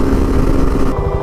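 A Suzuki V-Strom SX 250 motorcycle cruising on a highway tour, engine note loud and steady up close with wind rush, a brief drop in the upper noise near the end.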